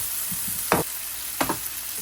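Fish dropped into hot oil with cooked-down spices, giving a steady hiss of frying with two sharper bursts of sizzle as pieces hit the pan, close and moderately loud with no talking.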